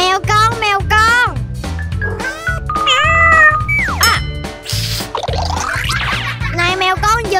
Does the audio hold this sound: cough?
no